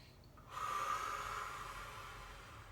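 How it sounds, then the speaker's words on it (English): A long, steady exhalation pushed out through the mouth as a breathing exercise for neck and upper back stiffness, a soft airy rush that starts abruptly and slowly fades over a couple of seconds, alone and close. "So a really long exhalation."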